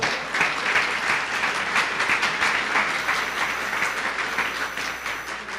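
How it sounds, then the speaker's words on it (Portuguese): A church congregation claps steadily and loudly for the Lord, a dense, even wash of applause that fills the whole stretch without pause. "Uma salva de palmas ao Senhor"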